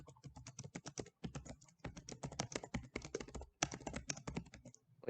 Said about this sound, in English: Clicking ASMR